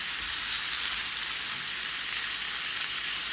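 Thyme and garlic frying in a pan: a constant, loud, hissing sizzle close up, steady and even with fine crackle and no talking.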